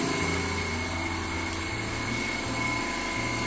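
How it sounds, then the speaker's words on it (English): An air compressor runs steadily through a house renovation, a continuous motor drone with a cycling low hum that shifts pitch a few times, moderately close and with no talk. "air compressor is going a little bit"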